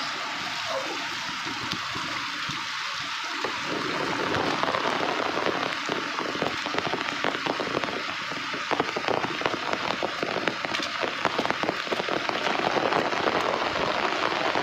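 Rain pours steadily, a dense, loud hiss of drops striking nearby surfaces that builds slightly and continues without break, with no clear speech.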